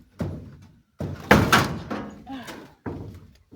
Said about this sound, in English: This door's tricky.